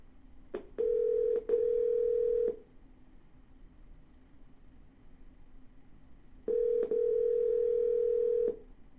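A telephone call is dialed twice during live wholesale real-estate calls to motivated sellers. Each attempt gives quick dialing beeps and then a long steady tone, the two bursts separated by a few seconds of quiet.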